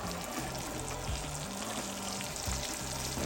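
Ribeye steak sizzles hard in a cast iron pan while butter is spooned over it, a dense, close, continuous frying crackle with faint liquid spooning sounds beneath.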